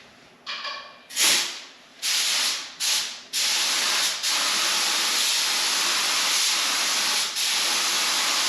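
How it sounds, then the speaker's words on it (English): Lacquer thinner blown through a spray gun: several short loud hissing spray bursts, then a long continuous close hiss that holds steady to the end, with no speech. "I'm going to throw just a little lacquer thinner in it and blow some lacquer thinner through it"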